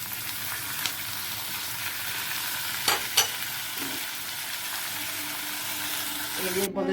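Tomato, green chilli and ginger frying in a home kitchen pan, a continuous sizzle with a couple of sharp stirring clatters partway through and a brief sound change at the very end.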